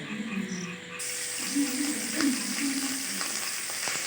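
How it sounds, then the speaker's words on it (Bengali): Ginger paste dropped into hot oil for vegetarian bread pakora, sizzling steadily and fairly loudly up close, with faint stirring scrapes over the bubbling. "তেলটা গরম হয়ে গেছে এরপরে দিয়ে দেওয়া হচ্ছে আদা বাটাটা দিয়ে দেওয়া হচ্ছে"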